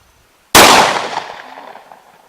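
A single sharp, loud blast from a 20 gauge shotgun fired at close range, ringing out and decaying over about a second and a half, no talk.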